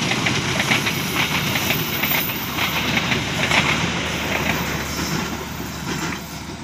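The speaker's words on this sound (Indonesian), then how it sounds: "kereta api lokal Bandung Raya mantap sekali ya lokomotifnya" A local Bandung Raya diesel locomotive train rumbles past close by, with a steady heavy roar, hissing and rhythmic rail clatter throughout, and no voices.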